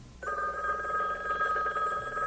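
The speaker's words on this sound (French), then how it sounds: "le téléphone" A telephone bell rings in one sustained, bright electronic trill lasting about two seconds, close and clear with no talking over it.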